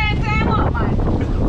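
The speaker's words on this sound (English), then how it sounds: "The wind will take away the gazebo." Strong outdoor wind gusts buffet the microphone in a loud, continuous low roar, with voices talking over it throughout.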